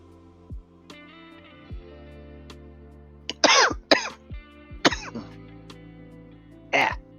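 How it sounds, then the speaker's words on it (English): Four or five harsh, close coughs in two quick clusters, separated by quieter pauses with a faint background tone. "Cough."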